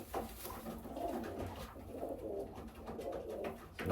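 A blue bar pigeon with white flight feathers coos softly in repeated low, throaty phrases, fairly close and faint against a quiet background.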